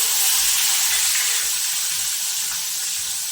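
Chopped tomatoes hit a hot tempering of oil with asafoetida, curry leaves and bay leaf for green pea dal, setting off a loud, steady sizzle that spits and hisses close by, with no talk over it.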